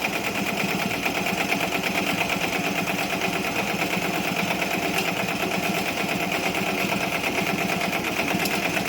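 A Ricoma EM1010 embroidery machine stitches a letterman jacket, its rapid needle hum running steady and loud without pause, close by and with no voices.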